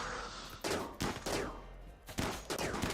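Bursts of gunfire from the RimWorld colony game, several sharp volleys in quick succession separated by brief pauses, fairly loud and up close with no talking.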